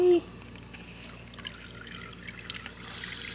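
Water trickles and splashes while a dog is rinsed off during a bath, with faint drips at first and then a steadier, louder flow of running water near the end.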